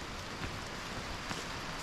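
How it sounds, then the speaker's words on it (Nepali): Rain falls steadily on a wooded hiking trail, a dense, even hiss of drops with faint rustling of wet leaves, close and continuous. "आज हिँडौँ न, कति पानी पर्दो रहेछ हेरौँ त।"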